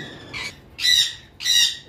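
A male sun conure gives three loud, harsh squawks in quick succession, shrill and close, with short quiet gaps between them and no talking.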